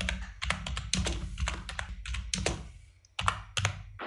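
Quick typing on a computer keyboard, close and soft, with clustered keystrokes in irregular bursts and a brief pause near the end.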